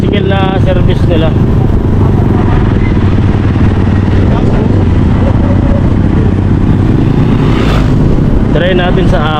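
A Yamaha motorcycle revs hard as it climbs a hill, its engine loud and close, droning steadily with rising pitch sweeps, while people talk over it.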